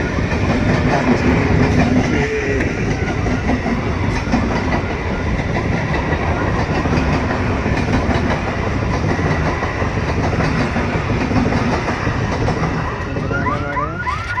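A train rolls past at close range on the Amtala to Raidighi route, a loud continuous rumble with rhythmic clickety-clack of wheels on rails that persists throughout, and a faint tonal whine near the end.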